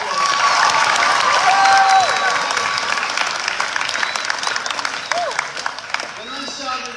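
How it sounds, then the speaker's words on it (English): Audience at a Year 12 school graduation applauds steadily, a dense, fairly close wash of clapping with a few cheers and whistles, gradually thinning toward the end. "Give them a round of applause."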